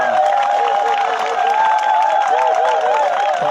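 A crowd claps and cheers steadily and loudly at a press conference where the Uiwang mayor announces his run for a fourth term, with voices mixed into the noise.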